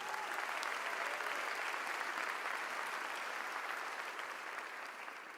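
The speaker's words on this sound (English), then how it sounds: "Let's give her another round of applause." Sustained applause from an audience at a community address, following a performance; steady, dense clapping that stays loud throughout and tapers slightly at the end, with no voices over it.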